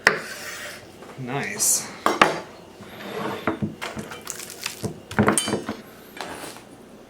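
A knife saws and scrapes through a rack of BBQ ribs against a board, with irregular rasping strokes and knocks close by; a voice speaks briefly near the end.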